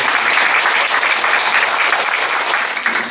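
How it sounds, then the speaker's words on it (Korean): A church congregation gives sustained, dense applause that stays loud and even for the whole stretch, with no voices standing out. "따뜻한 사랑의 박수, 감사의 박수."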